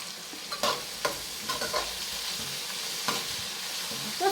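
Curry leaves tossed into a hot oiled pan crackle and sizzle steadily, with a few spatula stirs and scrapes breaking through, close and continuous, no voices.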